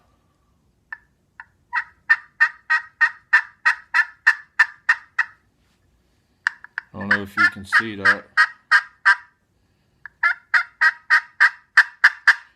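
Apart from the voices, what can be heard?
3.5 inch turkey pot call played lightly, rasp and rollover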